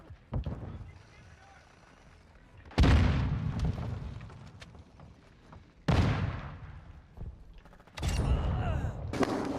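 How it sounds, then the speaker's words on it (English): A stun grenade goes off in Call of Duty Modern Warfare 2 on Xbox, one of several loud, booming bursts in a gunfight that cut sharply through the quieter game ambience between them. "Stun grenade out!"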